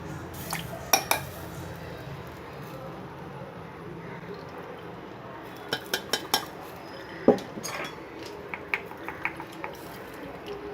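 Ragi milk is strained by tapping a metal strainer against a pot, producing scattered clusters of light metallic taps and clinks over a faint background hum, quiet and close, with no speech.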